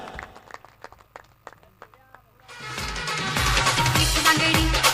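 A crowd at a Yuvasena Chashak 2017 cricket match in Vasar breaks into loud, dense applause for a bowler's wicket hat-trick, swelling in after a quieter opening with a voice and scattered sounds.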